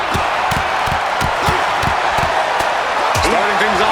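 A hot arena crowd roars in the WWE 2K26 wrestling video game during a tables match brawl, a dense steady din broken by sharp repeated thuds and slams, with a commentator talking over it.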